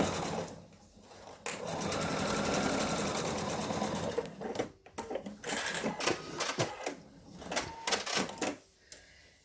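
Sewing machine stitching ribbon onto a 7-inch quilt block, a close steady mechanical whir for a few seconds, then shorter stop-and-start bursts of stitching with pauses between.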